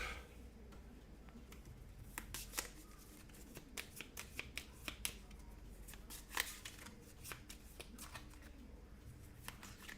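Playing cards being shuffled during an Aeon's End card game, a run of crisp riffling snaps and flicks at an uneven pace, close by and quiet, with no talking.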